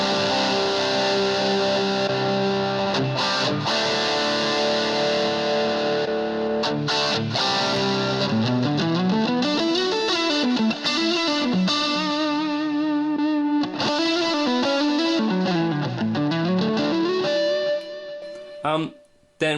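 Boss Katana Air desktop guitar amp with its boost effect engaged, a loud, sustained driven electric guitar playing chords and sliding melodic lines with a chorus-like shimmer, continuous throughout and cutting off abruptly at the end.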